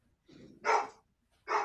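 A dog barks a few times nearby, a softer muffled sound followed by two loud sharp barks about a second apart, with no talking.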